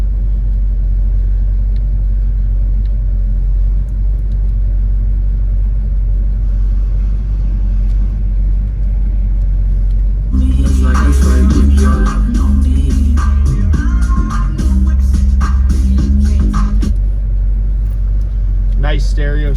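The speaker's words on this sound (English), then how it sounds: "Really nice sound motor." A 1971 Chevrolet Chevelle with a 454 big-block engine and 4-speed manual idles with a deep, steady rumble, then revs louder for several seconds before settling back to idle; someone talks over it.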